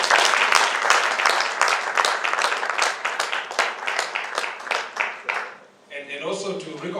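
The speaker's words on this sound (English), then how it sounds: "I invite you to give a round of applause to this distinguished panel." An audience at a South-South Institute panel on sexual violence against men and boys gives a dense, steady round of applause for about six seconds before it fades and a voice begins speaking.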